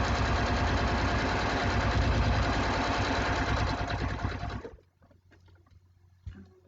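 A sewing machine runs steadily, stitching binding onto a quilt with a loud, close, rapid mechanical whir that stops abruptly after several seconds, leaving quiet room tone.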